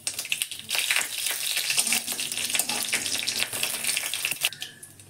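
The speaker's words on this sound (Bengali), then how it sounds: "কড়াতে তেজপাতা দিয়েছি, সরিষা ফোড়ন দিলাম, শুকনো লঙ্কা ফোড়ন দিলাম একটা।" Bay leaf, mustard seeds and a dried chili crackle and fry in oil in a wok, a steady close sizzle with scattered sharp pops and spitting bursts throughout, no talking.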